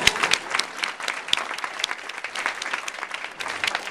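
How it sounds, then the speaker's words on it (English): A conference audience at an EPA Region 4 event claps steadily for a few seconds, a dense patter of many hands at moderate volume with no talking over it. "give Lisa a round of applause too"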